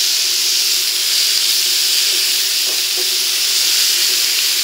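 Steady, dense sizzling of onions and bacon frying in a hot pan, a constant bright hiss with faint crackles, no talking.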